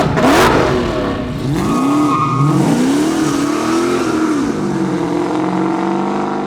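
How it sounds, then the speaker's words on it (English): A 1200hp carbon fiber Dodge Demon with a straight-piped, catless exhaust revs loudly up close. Sharp throttle blips rise and fall in pitch across several seconds with a raw, rasping tone, and no voices are heard. "I think it's a straight piped car from the sound that we get."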